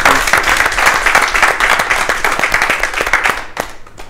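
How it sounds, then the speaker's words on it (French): Studio audience in a radio broadcast applauds a guest being called up, brisk sustained clapping close to the microphone that thins out and fades in the final half-second. "venez, on l'applaudit, on l'applaudit."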